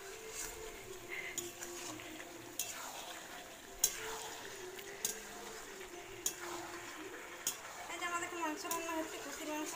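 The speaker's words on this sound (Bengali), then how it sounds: "চিকেন করা হবে, তাই চিকেনের মশলাটা এখানে কষাচ্ছে।" Chicken masala being stir-fried in a pan, heard as a low frying hiss with repeated sharp spoon-on-pan clicks and scrapes throughout.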